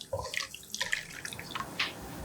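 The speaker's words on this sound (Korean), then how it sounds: "물 650ml를 붓고 바닥에 붙은 양념을 긁어가며 잘 풀리도록 골고루 저어주세요." Water pours into a pot of doenjang stew with splashing, gurgling bursts close by, heard alone without talk.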